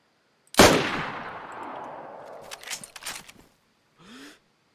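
A single loud close gunshot in the DayZ survival game, its report decaying over a couple of seconds, followed by scattered clicks and clatter and a short breathy vocal sound.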